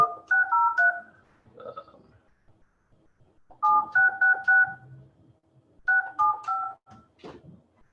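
Three bursts of touch-tone telephone dialing, each a quick run of clear beeping tones, separated by short pauses and faint background sounds.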